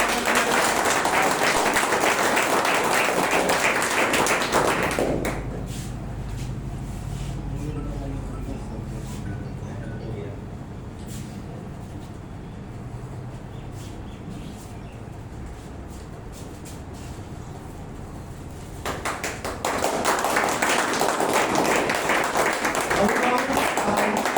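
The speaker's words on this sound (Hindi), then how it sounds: "एक बार जोरदार ताली से" Loud applause welcoming Manish sir at an honoring ceremony fills the start, fades under a quieter stretch with faint voices, then swells back in dense, steady clapping near the end.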